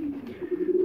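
Pigeons, older birds kept by a fancier, give a single short, close coo that lasts under a second.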